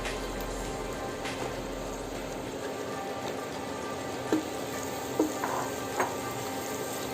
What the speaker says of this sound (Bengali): এখন এই আলুটাকেও আমি 5 মিনিট কষায় নিব।